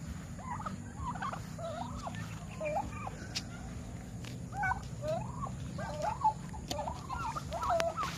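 Chickens cluck and chatter in short, repeated calls over a steady low rumble of background noise, with no talking.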